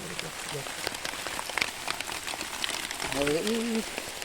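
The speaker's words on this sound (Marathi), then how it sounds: "पाऊस खूप पडता मरे" Dense patter of heavy rain falling on surfaces at a river, steady and fairly loud, with a voice speaking briefly near the end.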